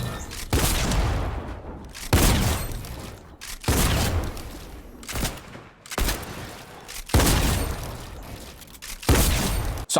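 Rapid automatic gunfire in an aim trainer video game as a wall is shot apart: loud repeated bursts about a second and a half long, separated by short pauses, close and harsh.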